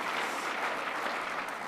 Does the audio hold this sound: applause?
yes